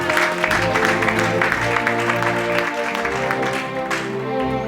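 A church congregation applauds loudly and steadily during a deliverance and miracles service, with the clapping mixed with tonal music or voices underneath.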